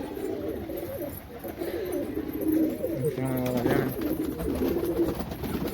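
Pigeons coo close by, giving low, throaty repeated coos that grow louder partway through. They sound over a soft outdoor background during rainy weather.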